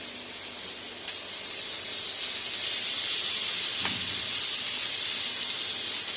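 Fish frying in oil in a home kitchen, a steady loud sizzling hiss that holds throughout with a couple of faint clicks.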